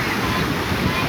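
Sea waves form a loud, unbroken rushing wash of surf that fills the whole moment without pause.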